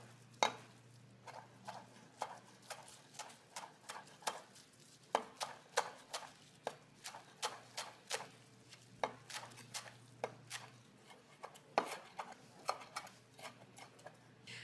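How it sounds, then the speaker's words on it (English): A knife chops cilantro leaves on a board in crisp, quiet taps, a steady run of roughly one or two strokes per second with brief pauses, close and alone. "I'm gonna chop my cilantro leaves"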